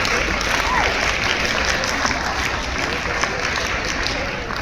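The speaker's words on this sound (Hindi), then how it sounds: "एक बार जोर तालियां बजा लो अपने आप के लिए।" A school audience at an awareness program bursts into loud, dense applause that holds steady from start to finish with a faint crowd murmur underneath.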